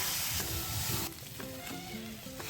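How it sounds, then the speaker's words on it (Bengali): Potatoes and onions fry together in a pan over a wood-fired clay stove, giving a soft continuous sizzle with a few light stirring scrapes, no voices. "দিয়ে আলু পেঁয়াজ একসাথে ভেজে নেবো"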